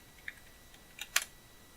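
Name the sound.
typing on a computer keyboard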